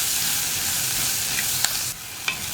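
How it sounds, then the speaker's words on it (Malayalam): Sliced onions sauté in a pan for tomato theeyal, a steady close hiss of frying filling the scene, with a couple of brief spoon scrapes near the end. "നമ്മുടെ സവോളയൊക്കെ നന്നായിട്ട് വഴന്ന് വന്നിട്ടുണ്ട്"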